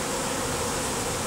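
A dense, steady buzzing of a honeybee swarm humming close by without pause.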